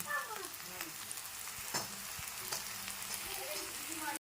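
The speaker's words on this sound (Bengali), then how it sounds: "পেঁয়াজটা হালকা ভাজা ভাজা হয়ে গেছে" Continuous soft sizzling of onions frying in a pan, with occasional faint stirring scrapes and no talking.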